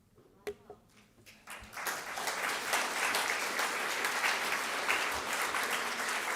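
An audience applauding at the end of a community history talk: a few isolated claps at first, then dense, sustained clapping that builds and holds steady, moderately distant in a hall.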